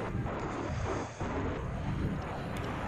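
A jet aircraft engine in Battlefield 4 roars loudly and continuously, a broad rushing rumble with a brief dip midway, no voices over it.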